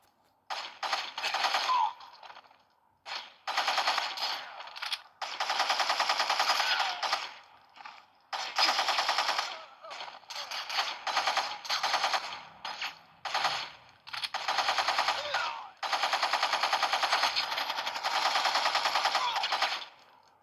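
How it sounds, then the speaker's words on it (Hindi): Rapid automatic gunfire from a favourite gun in the video game Gangstar Vegas, loud and close, fired in long sustained bursts separated by brief pauses across the whole stretch. "ये वाले जो गन है वो मेरी फेवरेट गन है, और अभी इसकी गोलियां भी ख़त्म होने वाली है।"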